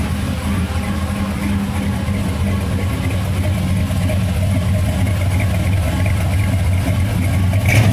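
A 400 cubic inch engine with a gear drive, fitted in a '94 Chevy Silverado, idles with a loud, steady, low rumble and a slightly lumpy pulse that runs unbroken from start to finish.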